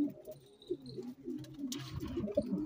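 Rooftop pigeons coo softly in overlapping low, throaty calls, a faint brief flutter or rustle passing partway through.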